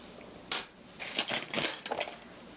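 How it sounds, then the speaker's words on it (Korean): Chopped green onions (Welsh onion) are dropped into a pan while cooking mapo doufu, giving a few quiet clinks and rustling clatters in short bursts, close but faint. "팬에 파 반은 넣으시고요."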